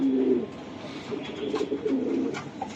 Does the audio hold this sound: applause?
no